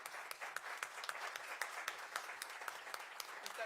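Steady audience applause for panel speakers, a dense patter of many hands with a few sharper individual claps standing out, heard from some distance and fairly soft throughout.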